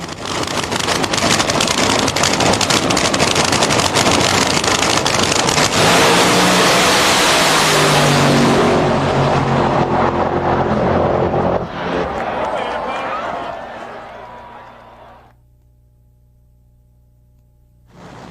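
Bruce Larson's USA 1 Corvette funny car at Englishtown Raceway, a loud, sustained roaring engine pass that fades away into quiet, with a voice heard over it.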